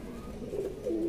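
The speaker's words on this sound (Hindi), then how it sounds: "ये वाला कबूतर जी, जो कि अकेला 10 हज़ार रुपये का कबूतर है" A pigeon at a pigeon sale gives soft, low, throaty coos that swell louder toward the end, close by with no voices.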